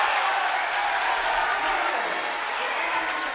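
Loud, sustained crowd cheering and applause fills a high school boys basketball gym after a late-game three-pointer at Sioux Falls O'Gorman. The roar holds steady throughout with no break.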